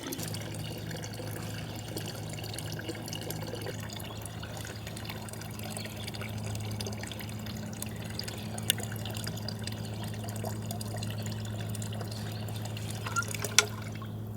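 Water from a gravity-fed system filling a 5-gallon bucket, a faint, steady trickling and splashing over a constant low hum, with a few small drips and clinks.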